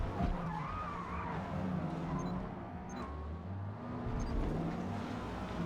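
A Honda S2000 racing in C class at Daytona Speedway in Forza Motorsport skids through a spin, its tires squealing over the droning engine in a long, loud slide alongside other cars.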